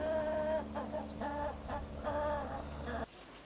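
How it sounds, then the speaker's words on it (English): Several chickens, hens with a couple of roosters, cluck and murmur in repeated short calls close by in a coop, a steady tonal chorus that cuts off abruptly near the end. "The chicken coop with all of our hens has changed."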